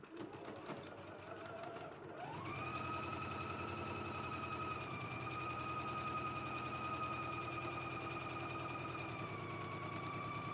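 A domestic sewing machine runs steadily after a short start, stitching a dress seam with a 5/8 inch seam allowance. The rapid, even mechanical whir and chatter carries on loud and close, with no talk over it.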